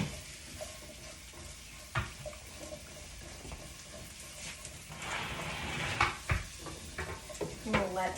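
Lentils and dill weed being stirred in a cooking pot, soft scraping and occasional knocks of a spoon against the pot over a faint simmer, fairly quiet throughout.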